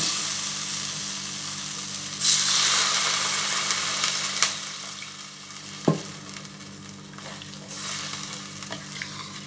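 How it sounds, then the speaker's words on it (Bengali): Potatoes and spices for a Bengali shol fish curry sizzle steadily in a hot pan, with occasional scraping stirs and a sharp clink of a utensil against the pan partway through. "এবার আলুর সঙ্গে মশলাটা ভালো করে কষানো হয়ে গেছে।"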